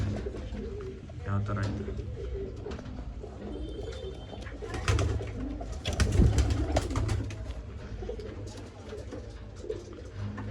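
Pigeons of an old breeding line cooing in a Bangalore loft, soft low coos rising and falling over a steady murmur of birds, with people talking nearby throughout.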